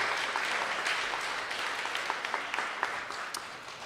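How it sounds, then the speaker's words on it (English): An audience at Riverside Town Hall applauds the township supervisor and board at an old-time radio stage show, a steady, dense wash of clapping that holds for several seconds and eases off slightly toward the end. "So a round of applause for them as well."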